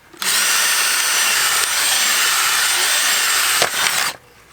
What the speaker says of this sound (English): just get yourself a drill and a bit and just drill it out